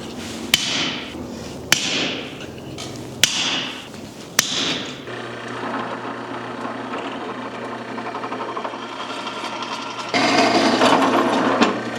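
Four sharp, ringing hammer blows at a blacksmith's forge, as rivets are set into a forged Celtic cross. A steady mechanical whir of a tool or machine follows and grows louder toward the end.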